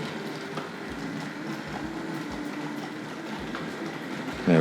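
A Tri-ang R.56 Baltic tank model locomotive with coaches runs along the track into a station, a steady close whirring hum with light rhythmic clicks of wheels over rail joints.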